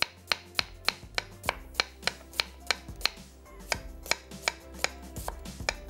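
Two medium onions being sliced on a cutting board, with a steady run of crisp, regular knife chops about three per second, close and clear, over a low background hum.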